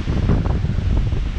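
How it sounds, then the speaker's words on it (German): Steady, heavy wind of about 25 knots rumbles and gusts close against the microphone aboard a sailboat, a continuous low roar with no voices. "Der Wind ist richtig ungemütlich."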